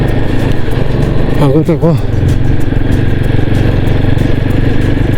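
Motorcycle riding over a snowmelt-damaged, potholed mountain road toward Khardung La, its engine a steady close drone throughout, with a voice talking briefly over it.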